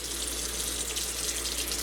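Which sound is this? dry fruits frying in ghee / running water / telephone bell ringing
running water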